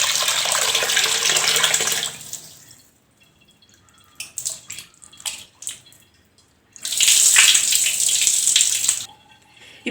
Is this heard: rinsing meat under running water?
yes